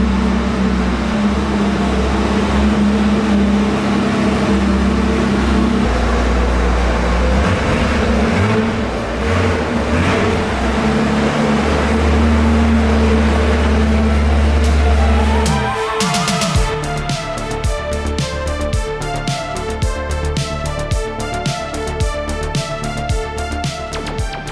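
A Ferrari F40 engine drones loud and steady from inside the cabin while cruising, then shifts in tone partway through as the revs change, with no talk over it.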